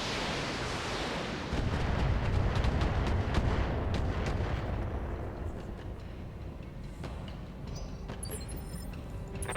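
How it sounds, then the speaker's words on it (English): Missile salvo from a BattleTech mech game, a dense roaring barrage of launches and blasts that swells loud near two seconds and rumbles on, gradually thinning toward the end. "Ooh, missiles."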